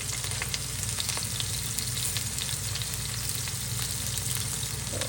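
Onion, capsicum, carrot and green chilli fry in hot oil for street-style veg noodles, giving a steady, close, even sizzle that runs for the whole stretch with no talk.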